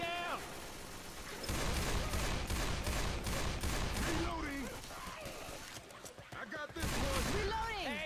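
Gunfire in the zombie shooter Left 4 Dead 2, a heavy gun firing dense bursts of loud shots across most of the stretch, with someone talking excitedly over and between the shots.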